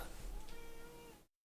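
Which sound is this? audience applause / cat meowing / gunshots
cat meowing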